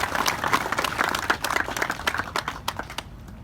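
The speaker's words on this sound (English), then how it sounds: "If we could give them a big round of applause." Outdoor audience at a Vietnam veteran memorial rededication gives committee members a round of applause, a scattered burst of clapping that peaks early and then thins to a few last claps before fading to quiet.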